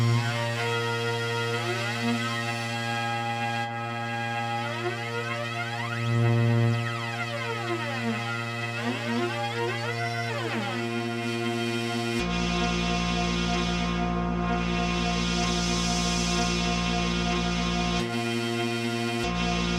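A droning tone from a Clank Uranograph synthesizer with a delay effect, echoes sweeping up and down in pitch as the delay time shortens and repeats speed up, then a harsher sustained buzz.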